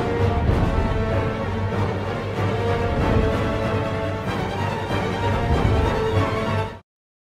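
Violins from a sample library play the Harry Potter and the Deathly Hallows sky battle cue in a high register, a dense, loud, continuous orchestral texture that runs steadily for several seconds before cutting off abruptly.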